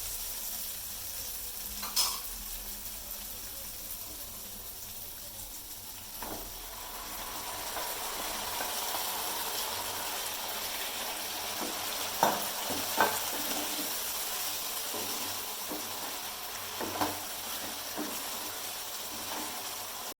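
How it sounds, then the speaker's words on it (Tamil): Chicken frying in a pan with Chettinad spices and vegetables, stirred with a spatula: steady loud sizzle throughout with intermittent scraping clinks of the utensil against the pan, no talking. "அடுத்து சிக்கனை போட்டு எல்லாம் ஒன்று போல் கிளறிடுவோம்"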